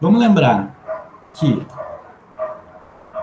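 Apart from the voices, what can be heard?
dog barking outside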